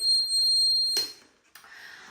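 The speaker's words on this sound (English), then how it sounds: "when I have the buzzer, again, it can run separately" A steady, high-pitched electric buzzer drones for about a second, then cuts off abruptly, followed by a faint click and soft rustling.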